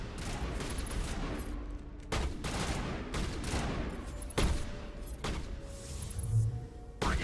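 Gunfire in the video game Mass Effect, assault rifle and shotgun in play: repeated sharp bursts and single shots at irregular intervals over a constant rumbling battle background, loud and close.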